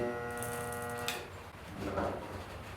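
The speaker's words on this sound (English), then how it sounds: "just flip this button. And just like that, got a spot weld" A spot welder joins metal on a Datsun 240Z fender under repair: a steady electrical hum ends in a sudden crackling burst, followed by a short noisy fizz.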